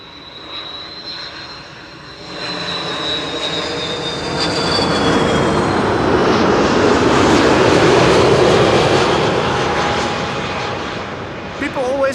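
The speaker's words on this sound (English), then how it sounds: "This is Turkish flight 1951, arriving from Istanbul, Turkey." A Turkish Airlines airliner arriving from Istanbul passes overhead on landing at Schiphol's Kaagbaan runway, its engine roar swelling loud and broad then slowly fading, with a high whine early on.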